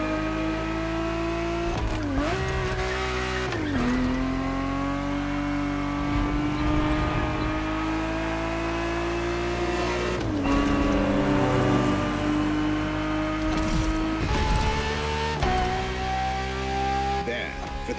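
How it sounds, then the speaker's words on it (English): A Ferrari 365 GTB4 races in the video game The Crew Motorfest, its engine droning steadily and shifting through gears with repeated pitch drops and climbs, loud and continuous throughout. "365 GTB4 is the perfect vehicle for you to experience Ferrari racing as it felt back in the 70s"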